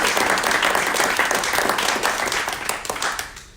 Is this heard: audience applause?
yes